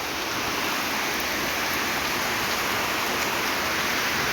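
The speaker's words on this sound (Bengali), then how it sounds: "এমন বৃষ্টি আসছে" Heavy rain pours down outside a balcony in a dense, unbroken hiss, loud and close, with no voices over it.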